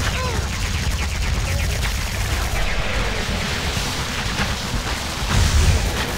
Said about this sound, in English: This is just a ton of shooting.